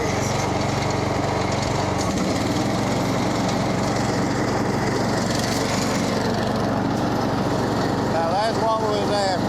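A Bad Boy lawn mower with a newly repaired deck runs steadily with its blades engaged, a loud, close, continuous engine drone with broadband whir and no pauses.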